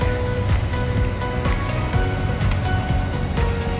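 Surf rolls and crashes continuously close by, a loud, steady wash of breaking waves with no voices.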